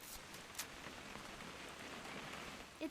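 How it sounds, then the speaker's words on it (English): Steady rain falls on surfaces in What Remains of Edith Finch, a soft even hiss with scattered drop taps throughout, fairly faint and with no one talking. "It's gonna rain the whole weekend, isn't it?"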